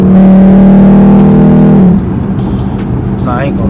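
A nearby car's engine revs loudly, a strong steady drone that drops off sharply about halfway through and fades into road noise as it passes.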